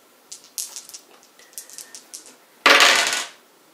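Dice from the Warhammer Quest board game clatter: scattered light clicks as they are handled, then a loud, sharp rattling roll that lasts about half a second and dies away.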